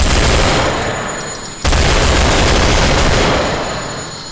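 An RPK machine gun fires in sustained automatic bursts in a video game, loud and close, with a brief break partway through before the rapid fire resumes and slowly tails off.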